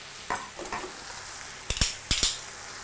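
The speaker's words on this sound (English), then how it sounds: "I want the mushrooms to sear really well to the bottom of the pan" Mushrooms sear in a pan, sizzling softly under a few close scrapes and taps of a utensil stirring them, with two sharper clusters of clatter near the end.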